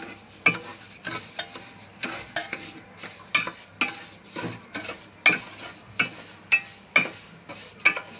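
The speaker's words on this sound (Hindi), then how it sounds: "इसे 1 मिनट तक भूनना है।" Sugar roasting in a pan for sewai is stirred with a utensil, making rhythmic scrapes and clicks about twice a second over a faint sizzle, close by and without talk.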